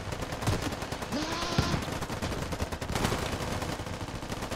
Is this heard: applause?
no